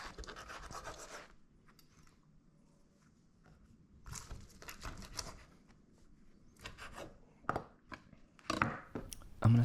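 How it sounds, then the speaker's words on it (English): Knife chopping grilled sausage on a wooden board for a choripan sandwich, a few brisk scraping cuts at first, then irregular louder chops and rubs building toward the end, close and with no talking. "I'm going to chop up our sausage to make it a little bit easier to eat."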